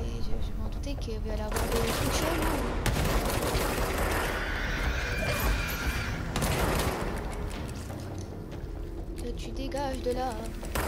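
Bursts of rapid gunfire from the video game Control rattle over a dense, loud game soundscape, with someone speaking French over the action throughout.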